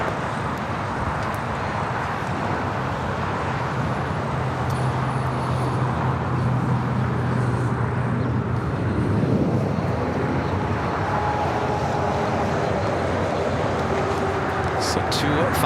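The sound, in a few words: Volaris Airbus A321neo taking off at LAX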